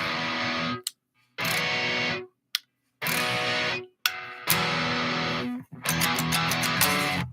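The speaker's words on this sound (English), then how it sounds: "this is my general distortion sound" A Telecaster electric guitar played through a distortion effect, loud sustained distorted chords in several separate bursts with short silent gaps, ending in rapid chugging strums, close and alone.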